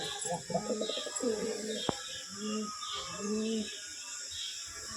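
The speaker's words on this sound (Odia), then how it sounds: "ସେପଟେ ଚଢ଼େଇ ଦେଖିଛୁ ନା?" Pigeons coo in repeated soft, rhythmic phrases at a temple, close and moderately loud, over a faint high insect-like hum with a sharp click midway.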